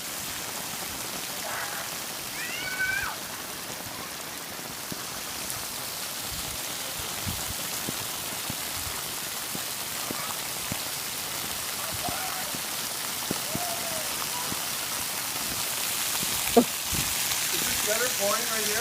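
Torrential downpour of heavy rain hammers steadily outdoors, a dense continuous hiss overflowing clogged gutters, with faint voices in the background.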